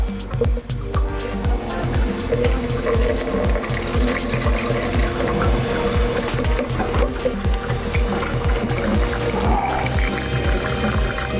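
Water rinsing 35mm Kodak Portra 400 C-41 film inside a Jobo CPP-2 processor, a continuous close wash of running water over a rapid rhythmic mechanical clicking from the rotating drum.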